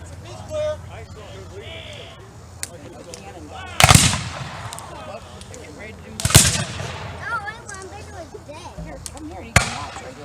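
Three loud, sharp gunshots from a Civil War reenactment ring out at a distance, spaced a few seconds apart. People talk throughout, with crowd murmur between the shots.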